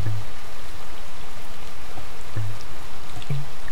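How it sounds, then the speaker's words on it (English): Steady rain falling over a Verdant Jungle region in SimCity, a dense continuous patter with scattered droplet ticks, even and unbroken with no voices. "It's raining here in Verdant Jungle."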